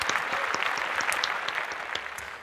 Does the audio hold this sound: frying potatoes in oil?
no